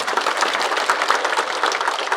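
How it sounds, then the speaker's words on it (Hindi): Audience applause at an event honoring doctors, a steady wash of many hands clapping at moderate loudness without a break, with no one speaking over it. "ढंग से ताली बजाओ यार"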